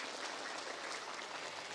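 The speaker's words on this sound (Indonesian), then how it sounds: "Ya tepuk tangan meneh enggak apa-apa." Audience applause from about fifty women of a mosque congregation at a religious lecture, a steady dense wash of clapping that holds evenly at moderate level for the whole short stretch, with no voices over it.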